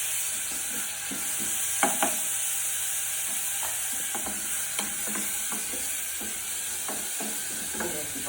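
Sliced onions fry in a pan at a steady hiss, while a spatula scrapes and taps in scattered strokes close by. The sizzle carries on alone throughout with no talk.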